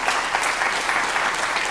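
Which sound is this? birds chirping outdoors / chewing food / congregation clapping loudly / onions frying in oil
congregation clapping loudly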